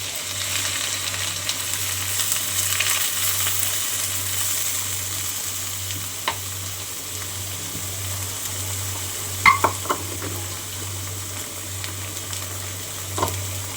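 Sliced onions sautéing in hot oil in a pan for a temple festival koozh cooking, a steady soft sizzle throughout with occasional stirring clinks and scrapes, no voices.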